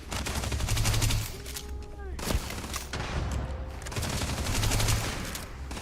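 Bursts of automatic gunfire in the sci-fi video game Starfield rattle in repeated volleys through a firefight, loud and dense, with no clear speech over them.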